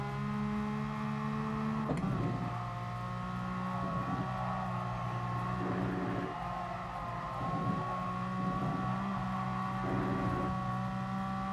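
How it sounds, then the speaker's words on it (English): A race car engine in GT Sport drones and revs steadily, with repeated quick dips and rises in pitch as gears change almost instantly, heard alone without talk. "When he accelerates, you'll listen to the engine and you can hear it's like an instant change of gear."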